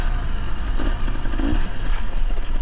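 A KTM XCW 300 two-stroke dirt bike rides over rocks, its engine roaring close up with constant clatter and jolts from the rough ground across the short stretch.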